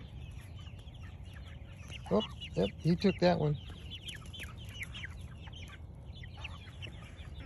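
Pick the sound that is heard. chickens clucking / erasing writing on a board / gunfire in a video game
chickens clucking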